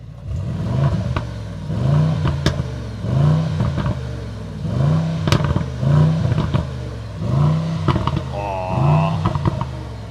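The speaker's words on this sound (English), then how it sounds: "How do you like the sound of the GLE 63S AMG?" Mercedes GLE 63S AMG heard from outside, its engine revved in a series of about seven repeated blips, each a loud rising then falling exhaust roar with crackle, spaced roughly a second apart, close to the listener.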